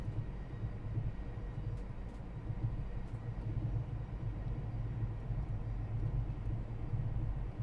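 A Class 700 electric train runs in Train Sim World 3, a continuous low rumble and hum of traction and wheels on rails, steady throughout with no voices.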